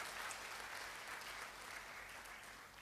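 A church congregation applauds during a Sunday sermon, giving praise to God, with a broad continuous wash of many hands clapping, heard at a moderate-to-soft level as a steady, even texture without talk.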